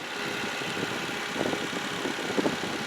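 A 2012 Hyundai Santa Fe idles steadily just after a cold start, a constant low engine hum with faint mechanical ticking and no voices.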